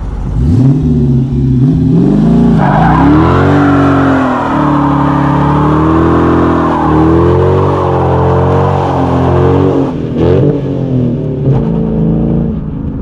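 A car with 392 parts fitted to a 5.7L engine revs hard on a line lock, its loud, steady engine roar rising and falling in pitch for the whole stretch, with a brief dip near the end and no talking.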